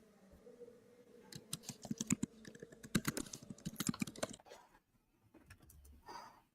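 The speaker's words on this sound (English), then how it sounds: "Oh, I can hear her typing now." Fast clicking keystrokes on a computer keyboard come in dense bursts and then thin out to a few scattered taps, heard fairly close with a faint background hum.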